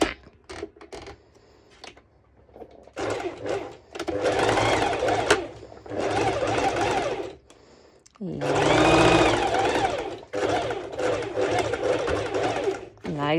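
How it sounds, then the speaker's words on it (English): A sewing machine runs a straight stitch over serged fabric edges on a cowl neck dress in several separate bursts of a few seconds each. The steady mechanical hum and chatter alternates with quiet pauses, and brief speech comes between bursts. "I'm going to do a straight stitch over."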